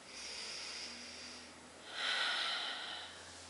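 Two slow, deep breaths taken after pushing a plate of food away, each a soft airy whoosh, the second louder and fuller, close and quiet with no talking.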